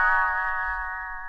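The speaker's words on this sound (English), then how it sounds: "You will know it is time to turn the page when Tinker Bell rings her little bells like this" A sustained bright chime rings out, clear and tonal, fading slowly like small bells struck together.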